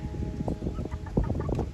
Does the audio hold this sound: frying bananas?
no